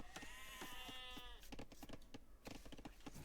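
Sheep bleat repeatedly in the real-time strategy game Age of Empires, several wavering calls in quick succession over a steady game soundtrack, fairly faint and with no talk.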